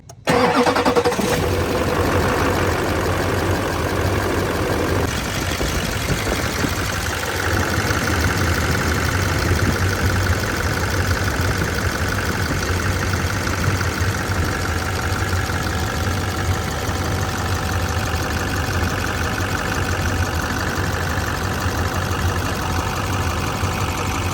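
A Duramax diesel truck engine cranks and fires about a second in, then settles into a loud, steady idle that runs unbroken to the end, with a faint knocking rattle, after an injector return line replacement.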